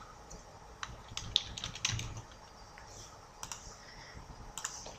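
Fast, uneven keystrokes clatter on a computer keyboard during Photoshop text entry, light clicks coming in small bursts with short pauses, close and fairly quiet, no voices.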